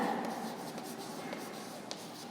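Someone writes by hand during an English grammar lesson, a faint scratching and rubbing of the writing tool, with small taps, heard quietly and alone.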